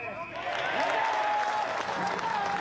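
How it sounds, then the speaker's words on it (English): Crowd at a rugby match in the Lochore Cup final clapping in a sustained, even wash of applause, heard at a distance under a commentator's voice. "And the applause from the crowd."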